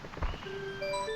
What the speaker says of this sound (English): it plays the jingle that you did something right